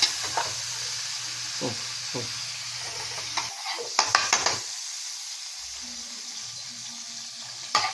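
Star margarine melting in a hot pan before making fried rice, a soft steady sizzle with occasional scraping and stirring clinks from a utensil against the pan.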